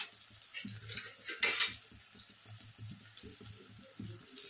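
A spoon stirs spices through a cluster bean stir-fry in a pan, with soft scraping and gentle sizzling, close and quiet, rising briefly louder midway.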